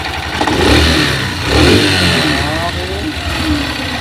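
Freshly tuned motorcycle engine idling smoothly close up, a steady mid-pitched putter with two brief swells in the revs and someone talking over it.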